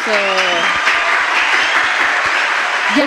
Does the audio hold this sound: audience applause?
yes